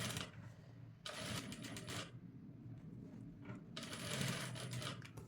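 Sewing machine stitching along the cutwork edges of a blouse in two runs of fast whirring, close and fairly loud, with a quiet pause between them and faint mechanical clicks.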